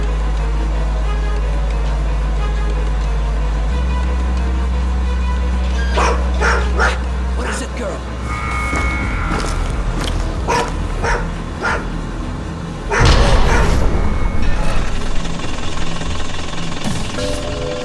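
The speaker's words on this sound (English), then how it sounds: "Send in the dog." Dog barking at a border checkpoint in the video game Road 96, several sharp barks and yips in bursts over a low idling vehicle rumble, with a louder flurry near the end.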